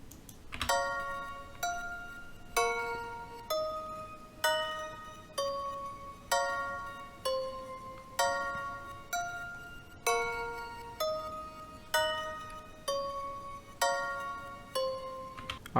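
Dark choir sample chords programmed in FL Studio, with an EQ boosting the highs, play as a steady sequence of evenly spaced bright, bell-like stabs that each decay, fairly quiet, with no voices.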